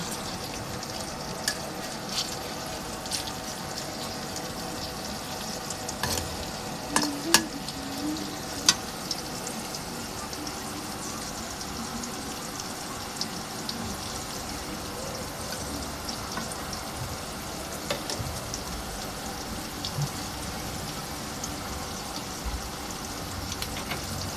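Fish cooks in a pan with a steady low sizzle and soft scraping stirs, including a cluster of clinking utensil knocks around the middle, continuous and moderately close with no speech.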